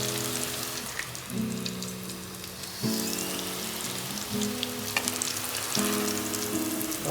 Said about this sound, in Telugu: చూడండి, మంచిగా వేగింది, ఎర్రగా ఇట్లనే వేగాలి.